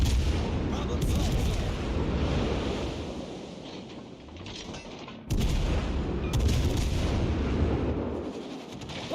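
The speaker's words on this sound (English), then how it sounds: "he's still shooting at me" Battleship high-explosive shells fire in World of Warships Legends, heavy booming blasts over a constant roaring rumble of naval battle, with a sharp loud burst at the start and another midway.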